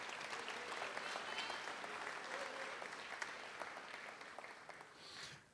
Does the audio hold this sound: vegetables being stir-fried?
no